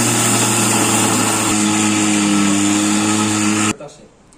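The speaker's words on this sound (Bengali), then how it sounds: "এখন আমি চাল গুঁড়ো করবো" A grinder pulverizing rice into powder, a loud steady high-pitched motor whir running without a break for several seconds, then cutting off abruptly into quiet rattling.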